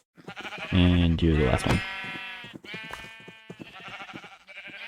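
Sheep bleating in a block-building game, a loud drawn-out bleat followed by a string of shorter bleats close by, with someone speaking over them.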